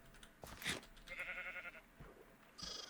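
Sheep in Minecraft Bedrock Edition bleat in short wavering calls, several in quick succession, fairly faint and clear with no talking over them.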